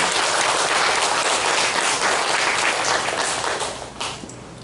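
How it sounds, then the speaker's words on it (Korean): A church congregation applauds during a Sunday worship service, a dense, loud wash of clapping that holds steady for several seconds and then thins and fades near the end. "여러분 감사의 박수를 보내주시면 고맙습니다."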